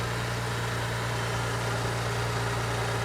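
A 2014 car engine idling at about 1,300 RPM under an open hood outdoors, a steady close drone with constant mid-range vibration and no talking.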